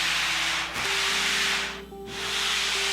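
Primer being sanded on a car body panel during restoration bodywork: a close, steady abrasive rasp that dips briefly twice before carrying on.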